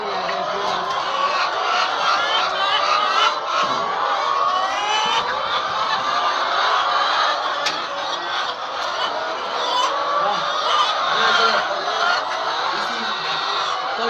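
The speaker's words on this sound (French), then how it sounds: "Venez, il y a des poulets là." Chickens cluck and chatter continuously in a noisy, crowded coop, with a person talking over the steady flock.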